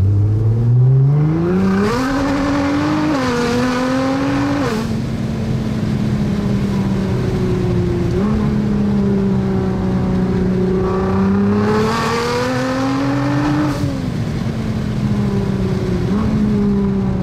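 A Nissan GT-R engine revs and burbles through an Armytrix stainless exhaust in cold weather, rising and falling in pitch several times, loud and close.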